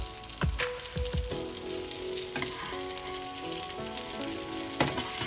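Sabudana tikki patties frying in a pan, a loud, steady sizzle with several low knocks and scrapes as they are turned, and no voices.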